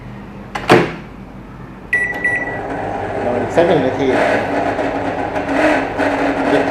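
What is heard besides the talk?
microwave oven turntable motor noise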